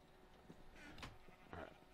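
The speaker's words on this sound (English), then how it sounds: "I hope this isn't too loud in y'all's ears with all the bah and all that. Because these sheep are bad." Sheep bleat in a Minecraft-style video game, several short bah calls spread across the moment amid steady game background noise.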